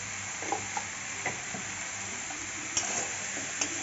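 Cauliflower stalk curry being stirred and sautéed in a pan, a steady close sizzle with occasional light spatula scrapes and taps, no voices.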